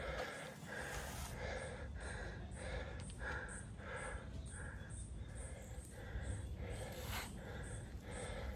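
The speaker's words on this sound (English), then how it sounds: "Just listen to that breathing." Heavy, rhythmic breathing of a hiker climbing Table Mountain, steady panting breaths close to the microphone over a constant rushing background.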